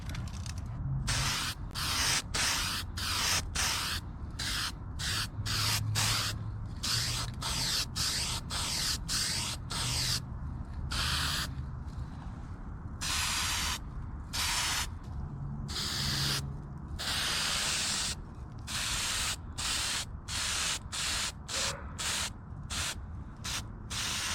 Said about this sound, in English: We've got it wiped down, taped off, and now we're about to paint it.